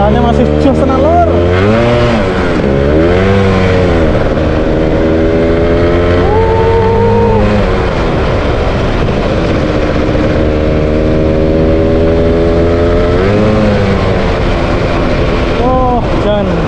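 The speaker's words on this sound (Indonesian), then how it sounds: "Seperti apakah larinya motor standar ini?" Standard, mostly original Yamaha F1Z two-stroke motorcycle engine on a test ride, revving up and down in repeated rising and falling pulls, loud and close throughout, with someone talking over it at times.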